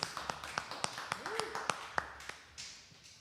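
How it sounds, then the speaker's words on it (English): A few people in a small studio room clap sparsely, giving about a dozen sharp, separate claps in an uneven rhythm. A voice briefly slides in the background, and faint room noise runs underneath. "So we do have an audience. After all, we're clapping, yes."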